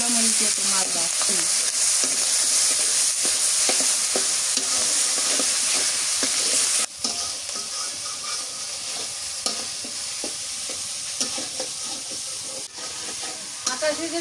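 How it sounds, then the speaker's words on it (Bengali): Fish pieces fry in hot oil with green chillies, chilli powder, salt and turmeric, giving a steady loud sizzle and crackle with occasional stirring scrapes throughout, slightly quieter after midway. "কাঁচা মরিচ দিচ্ছি আর গুঁড়া মরিচ দিয়ে তো মাছ ভাজছি"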